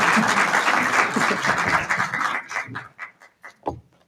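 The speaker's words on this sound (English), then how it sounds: "please another round of applause" Conference session audience gives a round of applause, dense and steady at first, then thinning into scattered individual claps that fade out over the last second or so.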